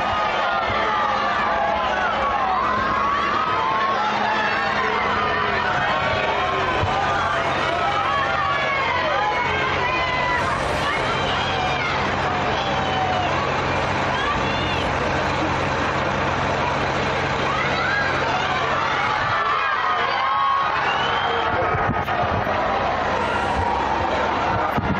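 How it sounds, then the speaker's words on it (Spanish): Hundreds of Real Madrid football fans cheer outside the team hotel as the squad departs for the Nuevo Los Cármenes, a dense, continuous crowd roar with whistles and shouts, steady and loud, with vehicle engine rumble underneath throughout. "Todos ellos despedidos por cientos de aficionados en las puertas del hotel de concentración."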